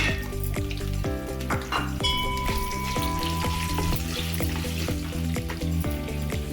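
Thinly sliced onions frying in hot oil with shahi jeera, cinnamon, cardamom and cloves for Hyderabadi bagara rice, a loud continuous sizzle up close, with a few short clinks of a utensil against the pan.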